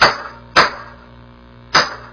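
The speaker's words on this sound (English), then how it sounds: "slap this good with a hammer" Three sharp metallic hammer strikes hit a bicycle headset cup removal tool while driving the headset cup out, loud and close, the first two rapid and the third after a pause.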